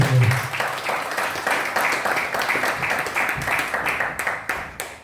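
A church congregation applauds for the Lord in steady, dense clapping that is close and loud and holds at an even level throughout.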